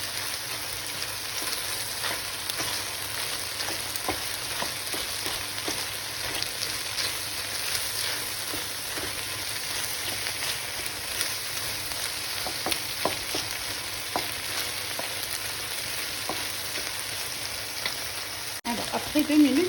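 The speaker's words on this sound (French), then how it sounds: "je rajoute les tranches de champignons que je vais laisser mijoter pendant 2 à 3 minutes." Mushroom slices sizzle as they simmer in a pan over the heat, producing a steady, fairly faint frying hiss with light crackles that continues throughout.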